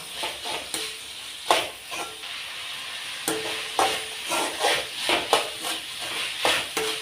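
Curry leaves sauté in a hot pan: a sizzling hiss runs under repeated sharp scrapes and knocks of a spoon stirring against the metal, close and fairly loud.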